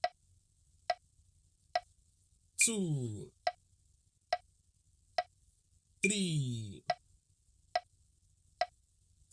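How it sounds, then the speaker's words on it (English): Sharp, evenly spaced metronome ticks keep a steady pulse for a drum subdivision lesson, clear and close, while a voice counts aloud between some of the ticks. "So you can use a metronome to learn it."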